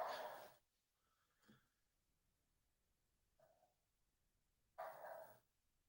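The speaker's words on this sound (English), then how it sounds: "here goes the dog." A dog gives two short, loud barks about four seconds apart, with a couple of faint softer yips in between against a quiet background.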